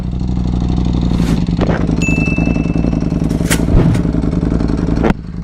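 A motorcycle with an aftermarket exhaust is heard up close on a warm start, its engine revving loudly and steadily with rising sweeps, scraping clatter and a sudden drop near the end.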